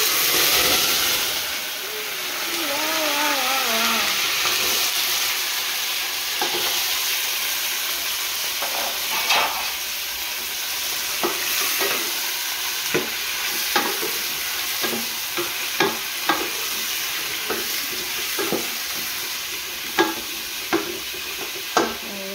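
Chayote frying in hot oil sizzles and hisses steadily and loudly at close range, broken by scattered clicks and light utensil taps that come more often toward the end.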